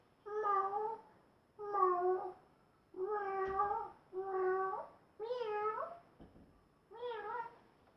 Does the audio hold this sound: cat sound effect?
yes